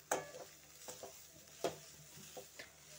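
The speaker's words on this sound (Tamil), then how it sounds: "அடுப்பை சிம்லயே வச்சு வறுத்துக்கோங்க." Grated coconut roasting in ghee on a low flame, with soft sporadic scrapes and taps of a spoon stirring against the pan over a faint, quiet sizzle; no voices.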